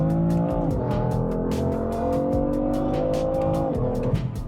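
A stock BMW F80 M3 roars close by on a track, its engine note rising and dropping through gear changes, with sharp rattling bursts over the steady drone.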